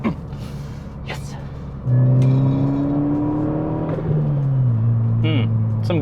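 A VW MK6 GTI fitted with a CTS turbo downpipe revs hard up close, its engine note jumping into a loud, rising drone, then easing back with a burbling rasp, with muffled voices in the background.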